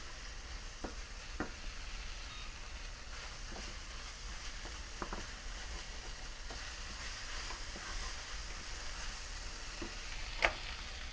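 Flour cooking in hamburger fat in a pan gives a steady low sizzle throughout, broken by a few sharp clicks and scrapes of stirring, one louder tap near the end.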